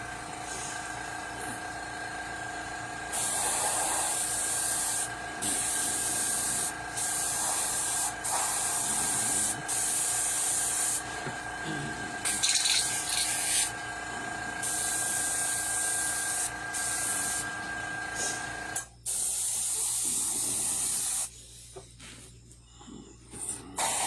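An airbrush sprays paint onto a werewolf mask in repeated bursts of loud hissing, separated by short pauses, with brief quieter mechanical handling sounds near the end.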